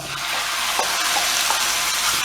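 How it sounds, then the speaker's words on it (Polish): Chicken pieces fry in a hot, dry-preheated pan with rapeseed oil for a herb-sauce dish, giving a steady close sizzle with a few brief stirring scrapes and no talking. "Wsypujemy kurczaka, podsmażamy go."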